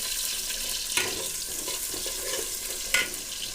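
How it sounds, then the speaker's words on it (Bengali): Onions and green chilies fry with whole spices, cardamom, cinnamon, bay leaf and cloves, for bhuna khichuri, producing a continuous close sizzle with a couple of clinks and stirring scrapes. "এখন ভালো মতন পেঁয়াজটা আর মরিচটা ভেজে নিলাম।"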